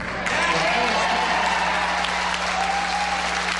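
A crowd at a political town hall listening session breaks into loud, sustained applause, dense clapping and cheering that fills the room throughout, with voices mixed into the din.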